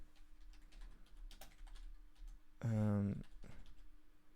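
Soft keyboard typing clicks along at low level, briefly interrupted by a short burst of voice in the middle.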